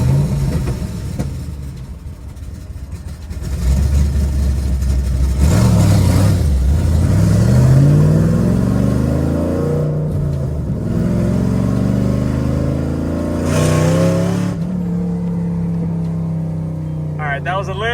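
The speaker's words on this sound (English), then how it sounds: "listen to how loud this freaking car is" A cammed Chevrolet Camaro ZL1 V8 idles with a lumpy rumble, then revs loudly in two rising throttle blips that fall back to a choppy idle, close by, with someone talking over it at times.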